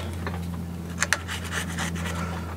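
A steady dry rubbing and rasping as a plastic credit card scrapes dried grass off a cylinder lawnmower, with a couple of sharper clicks over a low mechanical hum.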